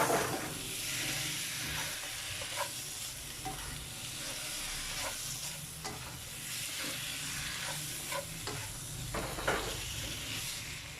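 Korean fishcake and luncheon meat sizzle steadily in a pan while being stir-fried, with a continuous frying hiss and scattered clicks of the spatula scraping and stirring throughout.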